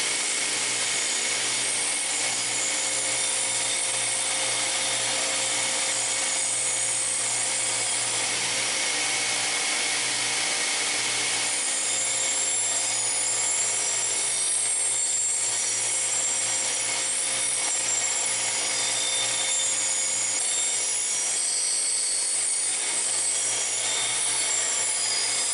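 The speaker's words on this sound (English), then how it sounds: "we're going to put this in the cabinet grinder and do our initial shaping" Cabinet grinder shaping a blade from a salvaged steel fence post, a steady, continuous abrasive grinding hiss that stays loud and even for the whole stretch, with no talking over it.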